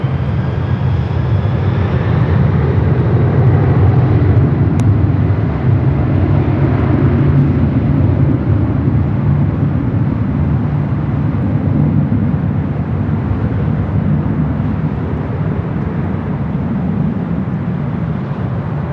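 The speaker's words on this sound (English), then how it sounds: "951 taking off to JFK on the 767-300ER." A Delta Boeing 767-300ER roars down the runway on takeoff at LAX, bound for JFK, a loud sustained jet-engine rumble that dominates throughout and eases slightly toward the end.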